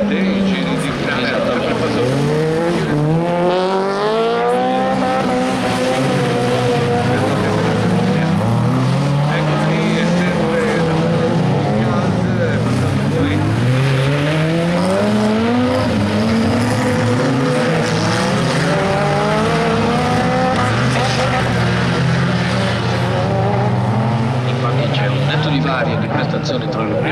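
Autocross race cars lapping in a Group A final at Maggiora, engines continuously roaring and revving up and down in overlapping waves, loud and close, with a commentator talking over them.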